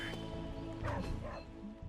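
A dog, Charlie, barks in Marvel's Midnight Suns, giving a couple of close, moderately loud yips and woofs over a steady game background hum.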